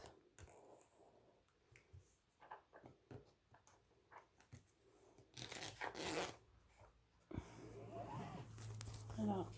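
Plastic wrapping crackles and tears as it is pulled off a diamond painting kit package, loud crinkling bursts building over several seconds after scattered small handling clicks.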